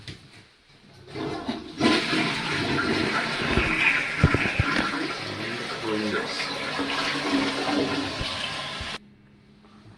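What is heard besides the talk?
toilet flushing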